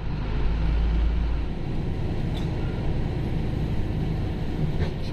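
A car engine on the Trans-Sumatra highway, an original Padang-built car with a rough, raspy note, droning steadily and loudly throughout with a deep low rumble that swells early on, with no talk over it.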